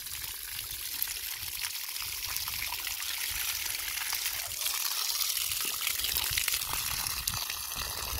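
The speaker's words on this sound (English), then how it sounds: "It's very cute water coming out automatically." Water gushes steadily from a drum pump running without electricity on a farm, a loud continuous splashing pour that holds unbroken for several seconds with no speech.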